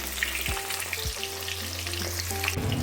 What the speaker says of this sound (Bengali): হালকা করে ফ্রাই করে আমি তুলে নেবো